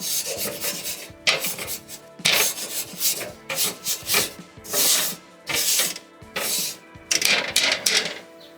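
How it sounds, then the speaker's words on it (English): A coiled wire grill brush scrubs hard across a screaming-hot grill grate, loud rasping strokes repeating in quick bursts with brief pauses between, close up and with no talking. "This is a coiled grill brush, and I'm going to really, really go for it now that it's screaming hot."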